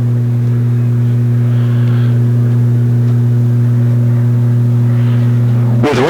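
Sport trucks racing at Seekonk Speedway hold a loud, steady, droning engine roar close by, then a sharp rising rev bursts in at the very end.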